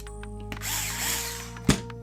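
A power drill whirs in a short burst of about a second during work on a Traxxas UDR RC desert racer's front differential, followed by a sharp metallic click, close up in a quiet workshop.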